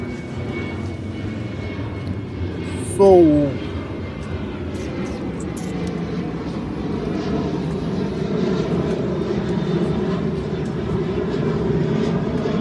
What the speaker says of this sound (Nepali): नेपाल जाने प्लेन माथि उडिरहेछ